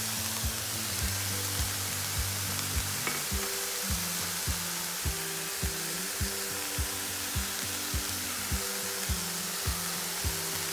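Chicken for a Salvadoran-style sandwich sizzles steadily in a pan while a utensil scrapes and stirs it in a regular, repeated rhythm, close and continuous with no talking.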